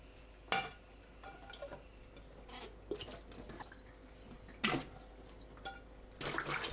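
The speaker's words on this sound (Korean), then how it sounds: "물이 잠길 만큼 가득 붓고 식초 2큰술, 풋고추 넣어 10분 담가둡니다." Water sloshes and drips into a bowl of green chili peppers, with a few clinks of a dish, quiet and close with scattered brief splashes over a faint steady hum.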